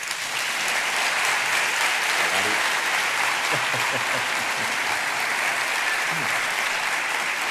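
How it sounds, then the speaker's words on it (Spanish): Sustained loud applause from a large lecture audience, steady clapping filling the room with a few voices faintly audible underneath. "pido que le reciban ustedes con un fuerte aplauso"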